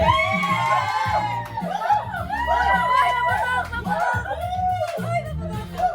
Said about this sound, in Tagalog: ngayon naman, isang masigabong hiyawan para sa Team Boy